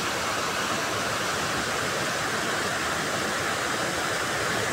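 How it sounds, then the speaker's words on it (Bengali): Steady, dense roar of a waterfall at Jhalong with water falling from high above, continuous broadband rushing with no variation, close and loud, with no voices. "জলটা বয়ে যাচ্ছে, ঝর্ণাটা অনেক উপর থেকে আসে, সেটা এখান থেকে দেখা যায় না, কিন্তু জলের আওয়াজেই বুঝতে পারছি"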